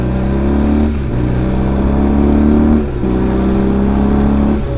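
Motorbike engine revving loudly and steadily while ridden on a big bike, with pitch rising and falling in waves and brief dips near the second and third seconds, wind and road rumble underneath.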